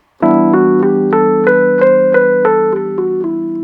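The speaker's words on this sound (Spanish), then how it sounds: "porque la escala menor, en rigor, suena así." An instrument plays a stepwise minor scale of sustained notes over a steady low drone, each note clearly struck in an even, unhurried rhythm.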